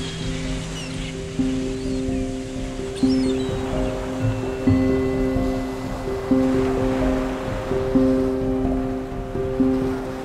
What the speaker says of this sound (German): Die Wellen werden tagtäglich höher und wir werden trotz Katamaran gut hin und her geschubst.